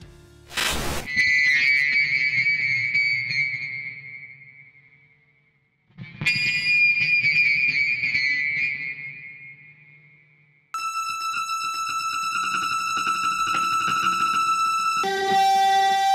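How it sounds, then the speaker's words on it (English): Sustained electric guitar pickup whistles ring out with long reverb tails, fading away, then a brighter layered tone swells and holds with a sharp final note. "if you want to get a continuous whistling, you need to add the effect that prolongs the sound"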